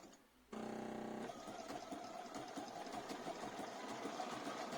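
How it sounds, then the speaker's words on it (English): A sewing machine runs test stitches on a leader strip for machine appliqué, a steady close mechanical whir with fast rhythmic stitching that starts abruptly after a brief quiet moment and continues without talk. "now do some test stitches"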